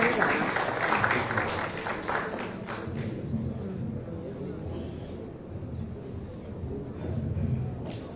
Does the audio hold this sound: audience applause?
yes